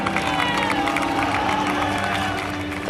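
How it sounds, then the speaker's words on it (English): A large crowd roars and cheers at an earthquake rescue in Kashmir, a dense, sustained wall of shouting voices close around. "This massive roar and cheering just goes up, and people shouting."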